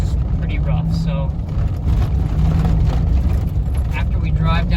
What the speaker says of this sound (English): it rides like your very stereotypical lifted gasser truck, just pretty rough